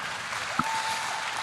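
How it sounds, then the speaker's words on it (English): Audience applause for a finalist at the infoShare 2016 startup contest finals, a steady broadband patter of clapping that fills the short stretch at an even level. "Give a big round of applause for SaaS Manager."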